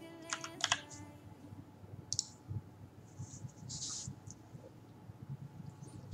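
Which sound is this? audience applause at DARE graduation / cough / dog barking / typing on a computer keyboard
typing on a computer keyboard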